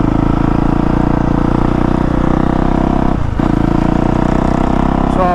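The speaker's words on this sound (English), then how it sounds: "So we're about to wheelie on the bike." A 2019 Honda CRF450R dirt bike engine drones loudly and steadily at close range, with a brief dip and recovery midway before the revs hold again.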